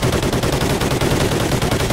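Gunfire in Call of Duty Ghosts: a dense, loud stream of rapid shots, close and continuous like automatic weapon fire, with no talking.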